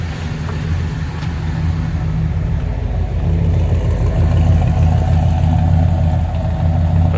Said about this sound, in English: I am going to lower the idle just a little bit